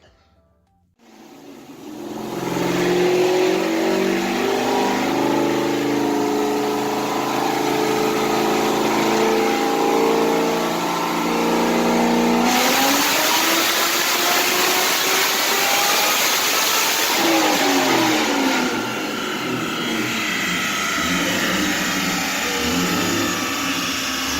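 A Pontiac GTO with a supercharged LSA V8 revs hard on a dyno, a loud sustained engine roar that climbs in pitch through a long pull, drops briefly, then winds up again and holds near full throttle.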